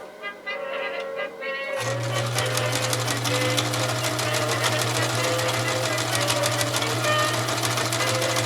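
A Japanese-made Kenmore 1351 sewing machine with a 0.7 amp motor, set to a tight mending stitch, starts up after a moment of quiet and runs at a steady, close, rapid whirring hum until the end.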